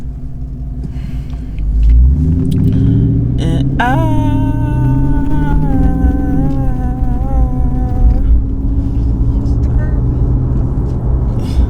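Interior rumble of a car being driven on a road, a steady low drone throughout with a revving rise midway, while people talk over it.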